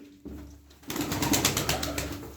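A tumbler pigeon coos in a loft, a close soft cooing that starts after a quiet moment and continues with fluttery rustling.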